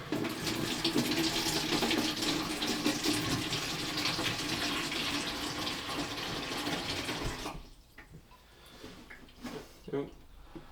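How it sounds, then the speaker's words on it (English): A newly repaired shower in a barn renovation runs with steady broadband hissing spray for about seven seconds, then stops, leaving faint drips and small knocks. "We have a functioning shower."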